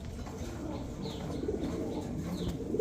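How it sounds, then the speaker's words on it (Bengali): A pigeon coos softly and low among a general market din, the murmur faint and repeated over a steady background of indistinct chatter and movement. "এই দেখেন বাচ্চা খাওয়া কবুতর।"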